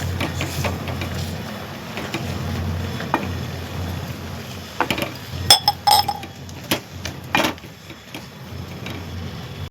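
Rice flour being stirred into boiling water in a pot for modak dough, a utensil clinking and scraping against the metal in irregular taps, with a few sharper knocks in the second half over a low background hum.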